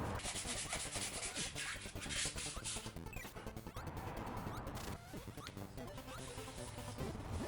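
A belt sander grinding a carved wooden bowl, not birch burl, roars loud and continuous as the wood is pressed into the belt, with the pitch shifting as pressure changes; no voices.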